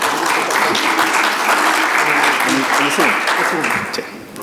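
Audience applause at a Latin American health summit panel welcomes a family physician from the Ministry of Health, dense steady clapping filling the room with a few voices mixed in, tapering off near the end.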